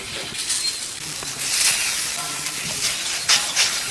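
Bread frying in oil on a hot tava for a banana bread omelette, giving a steady broadband sizzle with a few brief louder crackles, close and continuous throughout.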